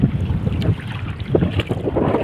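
Wind blowing across a small fishing boat at sea while tending pataw floats, a continuous roaring rush with gusty surges and no voices.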